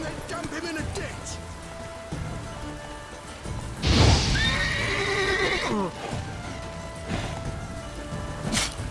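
The horse Roach neighs loudly in The Witcher 3, one long rising whinny close up, with hoof clops and light rain around it and game voices at other moments.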